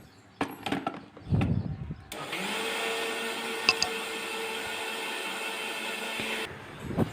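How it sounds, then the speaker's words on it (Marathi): A mixer grinder whirs loudly and steadily for several seconds after a few clatters and knocks, then cuts off abruptly, grinding batter in a home kitchen. "मिक्सर लावून घेतला"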